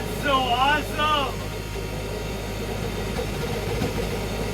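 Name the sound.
Tesla turbine jet engine with propane burner running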